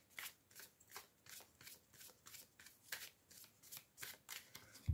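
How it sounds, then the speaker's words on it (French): Tarot cards are shuffled by hand in a quiet room, about a dozen crisp riffling bursts in an even, repeating rhythm, close and soft, with no talking over them. "Alors, je vais pousser les cartes."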